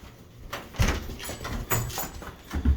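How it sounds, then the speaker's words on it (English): A house door being opened to let a dog outside on a hot day, with a few soft knocks and rattles spaced over a couple of seconds and no talking. "Watch what she does when we open the door."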